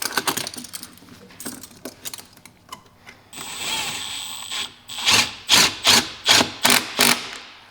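Metal hose clamp being cranked tight around a rubber or silicone intake coupler on a RAM 1500 TRX fitted with an AFE intake: scattered light clinks first, then a run of about six sharp, evenly spaced ratcheting clicks, close and fairly loud.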